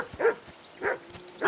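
Two sharp barks from a dog in Kingdom Come Deliverance 2, spaced well apart with a third starting at the very end, close and fairly loud over a quiet background.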